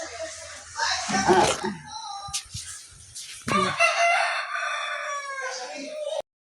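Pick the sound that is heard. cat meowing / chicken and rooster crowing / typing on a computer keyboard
chicken and rooster crowing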